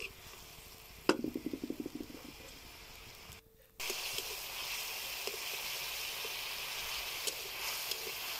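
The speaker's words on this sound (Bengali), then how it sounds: "এখন মশলাটাকে আমি ভালো করে কষিয়ে নিব।" Spice masala of turmeric, red chili powder, salt and onion being fried and stirred in a pan for a fish bhuna curry: a few sharp utensil clicks and a short pause, then a steady, moderately loud sizzling hiss that continues alone.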